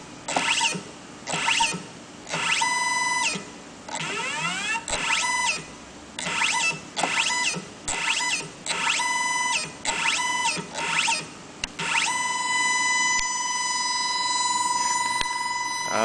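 A fuel gas valve actuator modulates in a run of short mechanical whirring and chirping bursts with tonal whines, ending in a long sustained whine, all close and fairly loud.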